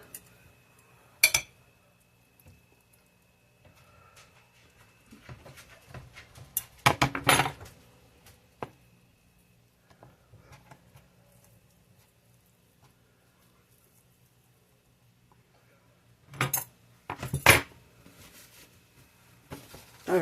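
Metal tongs clink sharply against a pan while hot carnitas are handled, a few scattered clusters of bright metallic taps with long quiet gaps between them.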